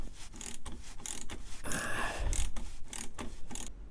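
Ratcheting clicks and metallic turning on a Lancia Delta Integrale Evo1 differential as a nut is tightened with a socket, coming in repeated short bursts with a brief grinding rub midway, close and fairly clear.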